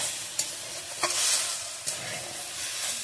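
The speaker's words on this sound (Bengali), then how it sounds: "তারপরে একটু নেড়িয়ে দেবো।" Potatoes and gima greens stirred in a frying pan, a steady sizzle of frying with a few sharp scrapes and clinks of the spatula against the pan, close and alone without talk.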